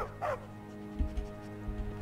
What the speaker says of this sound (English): And now I have a dog here.